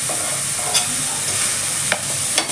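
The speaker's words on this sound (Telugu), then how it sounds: "ఈ విధంగా ఈ మెంతి కూర పచ్చి స్మెల్ పోయేంత వరకు మంచిగా ఫ్రై చేసుకోవాలి" Fenugreek leaves and chicken fry in a pan with a steady, close broadband sizzle, broken by a few brief scraping stirs of a utensil. No one speaks.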